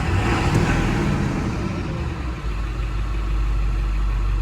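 A 1999 Ford F350 with the 7.3 diesel pulls under full throttle, a deep, steady engine drone that holds strong and even from start to finish, with no talking.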